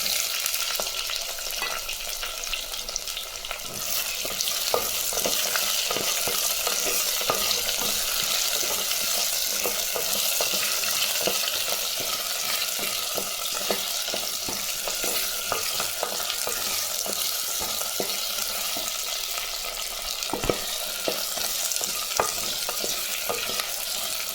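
Potatoes frying and being stirred in a pan for a horse gram and potato kurma, a steady dense sizzle with scraping stir strokes running throughout, close and loud, no talking.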